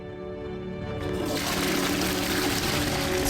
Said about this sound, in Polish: Spuściliśmy po kimś wodę.